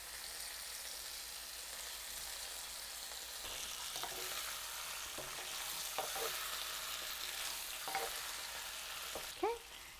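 Pointed gourd and potato pieces cooking in a pan, a quiet, steady sizzling hiss that swells slightly midway, with a few faint stirring scrapes and a brief clink near the end.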